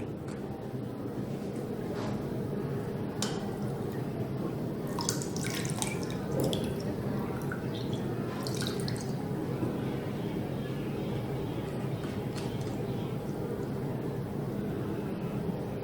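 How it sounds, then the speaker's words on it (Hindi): Water runs steadily into a bottle in a classroom-style demonstration, a continuous gurgling wash with a few faint drips and knocks, lasting throughout without talk. "चलिए पूरी तरह से इस बोतल को पानी से भर देते हैं।"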